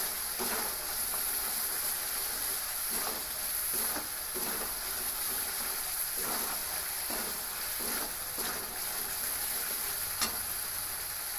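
Spice paste frying in oil for a soybean and potato curry: a constant close hiss and sizzle, punctuated by regular stirring scrapes and an occasional sharp tick from the pan.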